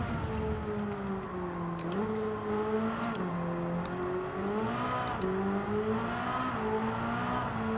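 Race car in a racing simulator game sliding, with a steady engine drone whose pitch dips and rises as the car loses and regains grip, plus faint tire noise and light clicks.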